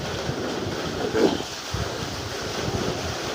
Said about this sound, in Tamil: இந்த இப்போ ஃப்ளோ வர்றது வந்து போர் தண்ணி